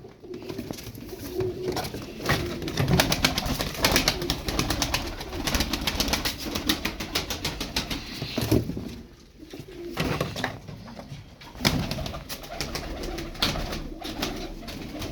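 Tumbler pigeons in a loft: a flock coos steadily and densely, with overlapping soft throaty calls and some fluttering and shuffling, all close and continuous throughout.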